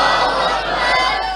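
A large religious gathering at an imambargah answers a takbeer call with a loud, sustained massed shout of many voices, close and filling the whole short stretch.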